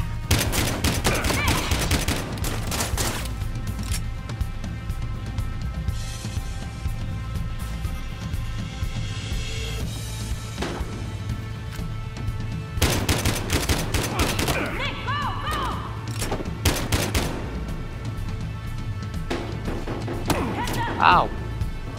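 Shotgun blasts and other gunfire in the video game Battlefield Hardline, with sharp bursts scattered through the stretch, a few clustered around the middle and near the end, over a steady low game hum.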